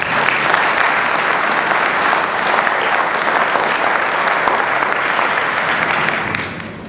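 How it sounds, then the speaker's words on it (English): A high school hall of fame induction ceremony audience applauds in a loud, dense, sustained wash of clapping that continues evenly for several seconds before tapering slightly at the close. "Please give a round of applause for all of the above"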